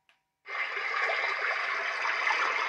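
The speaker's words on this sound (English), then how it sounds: "So now we've got this is the foresty one. So this got water running through it." A white noise machine set to a forest sound with running water starts after a brief click, then plays a steady, full rushing water hiss that stays level and close for the rest of the clip.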